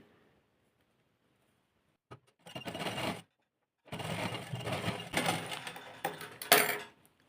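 A sewing machine stitches a suit neckline in short bursts of rapid mechanical whirring, one brief run followed by a longer continuous stretch, close and moderately loud with pauses of silence between.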